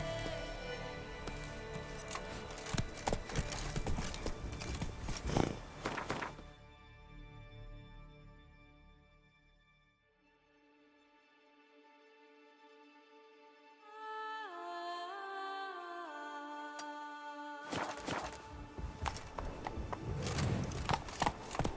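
Horse hooves clatter in a steady galloping rhythm in The Witcher 3, loud and close at the start and again at the end, with a quiet stretch in the middle where a musical tone sounds.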